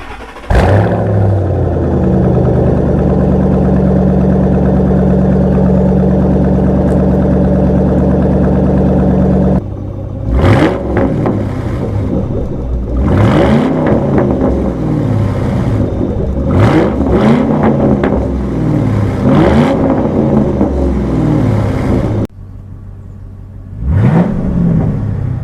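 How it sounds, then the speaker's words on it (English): A 2005-2009 Ford Mustang GT with a Pypes muffler delete, already warm, idles at a steady loud rumble, then is revved in a series of sharp bursts and drops back between them, close and with no talk. "We'll get some final revs,"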